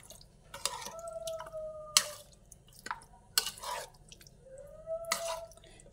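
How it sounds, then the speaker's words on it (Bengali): Rice for chicken pulao is rinsed in water, giving quiet, irregular drips, splashes and trickles close by with short pauses between them. "এরপরে আমি চালটা ধুয়ে নেব।"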